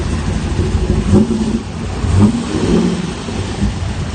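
A 2003 Chevrolet Corvette Z06 with a Lingenfelter-built engine races at the SEMA Ultimate Street Car Invitational in Las Vegas, its loud, steady engine roar surging in two swells as it passes near.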